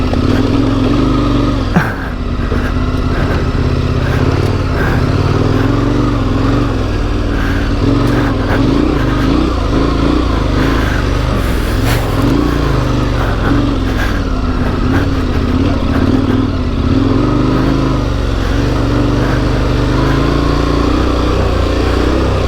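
A KTM 1090 Adventure R motorcycle rides a long, sandy track, its engine droning steadily and loudly close to the microphone with small rises in revs throughout.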